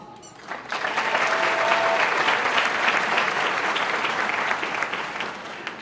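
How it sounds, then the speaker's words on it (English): A crowd at a high school graduation ceremony bursts into applause for the central office staff, a loud, sustained roar of clapping that rises quickly after a brief moment and holds steady to the end. "Another big round of applause for the rest of the central office."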